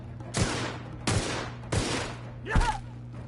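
Four loud, evenly spaced gunshots ring out in a space-themed shooter game, each a sharp crack with a short decaying tail over a low steady hum.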